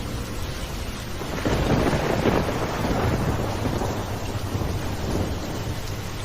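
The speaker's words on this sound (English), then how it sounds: "The night was dark, and the rain poured down in relentless sheets" Steady heavy rain hisses throughout while low thunder rumbles and swells in the background, peaking near the middle.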